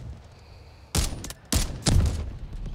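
Gunfire in Delta Force: Hawk Ops, three short loud bursts of shots separated by brief pauses, close and punchy over quiet game ambience.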